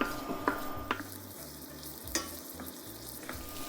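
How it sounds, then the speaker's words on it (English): Chorizo frying in oil in a pan on raised heat, a soft steady sizzle broken by a few light clacks of a utensil stirring the pan. "I can actually increase the temperature up a little bit, give the chorizo a bit of color"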